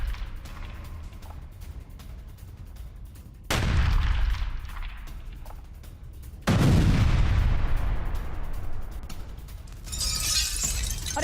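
Explosions from a Russian attack on Kharkiv boom out as two sudden heavy blasts a few seconds apart, each leaving a low rumbling decay, over crackling background noise.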